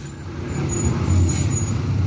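A large intercity bus's engine rumbles steadily close by with a faint high whine, idling or rolling slowly past, in West Sumatra, Indonesia.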